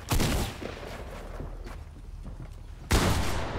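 Gunfire in Fortnite, with loud close bursts at the start and again near the end and scattered shots between them, no voices.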